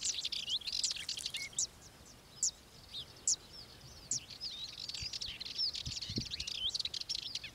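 Several small songbirds call and chirp in a garden in southern Portugal, species such as serins and Sardinian warblers, with short bright notes scattered throughout at moderate distance and no talking.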